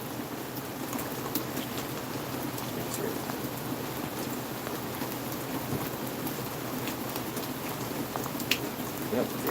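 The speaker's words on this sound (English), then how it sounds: "So, can you guys hear the rain?" Steady outdoor rainfall, a continuous close hiss with scattered drop ticks and faint low rumbles throughout, no speech over it.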